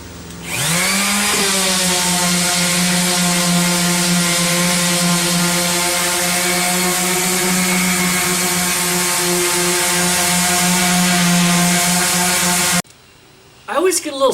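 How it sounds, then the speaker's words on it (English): Wood is sanded with 60 grit sandpaper while making a chessboard of zebrawood, ash, cedar and dark walnut. A steady, close motor drone holds for about twelve seconds, then stops, followed by brief handling noises. "try and get the marks out of the wood and try and make it flush. So let's get to sanding."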